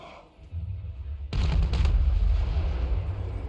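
Cannon and archers fire a volley in a strategy video game: a sudden loud blast with crackling bursts after a brief quiet start, followed by a sustained rumbling roar.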